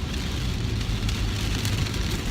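Light rain patters steadily on a car with tinted windows on a drive to the beach, a dense, even hiss with low rumble throughout and no voices.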